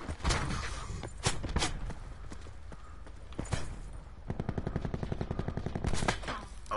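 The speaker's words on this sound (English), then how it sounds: "Gunshot from above." Rapid automatic gunfire rattles in a PS4 shooter video game, bursts of shots at first, then a sustained fast string of rounds near the end.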